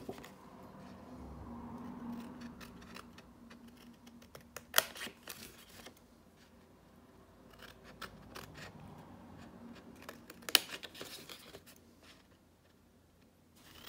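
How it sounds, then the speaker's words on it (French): Scissors snip through paper while cutting out a paper box, a run of quiet crisp snips and rustles with two sharper, louder cuts standing out, and no talk. "Je prends les ciseaux et c'est parti."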